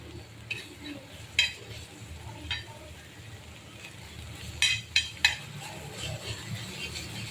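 Kharda ingredients roast in a pan with a soft background sizzle, broken by scattered clinks and scrapes of a utensil stirring against the metal.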